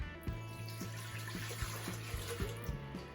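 About 1.5 cups of water poured into a Vitamix blender make a soft, steady trickle with a series of regular light knocks or drips, heard quietly with no talking.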